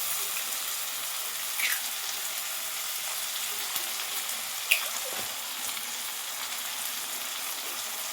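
Two eggs frying in a spiced masoor lentil masala with bay leaves and dry-roasted coriander powder, a steady soft sizzle with a couple of faint clicks and no voices.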